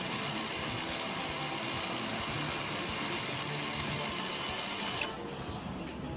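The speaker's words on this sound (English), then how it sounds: "The EPB module will cycle the parking brake several times during this test." A rear electro-mechanical parking brake motor on a car runs during a VCDS basic-settings test, giving a steady whirring hum that drops off abruptly near the end, continuous and moderately faint.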